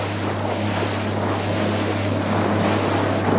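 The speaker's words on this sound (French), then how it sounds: "Le moteur semble bien marcher." A boat motor runs on a loch with a steady, loud, low drone, while wind rushes across the microphone throughout and no one speaks.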